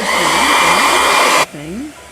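A handheld blow dryer runs loud and steady with a broad rushing whoosh and a voice talking over it, then cuts out abruptly partway through, leaving quiet speech.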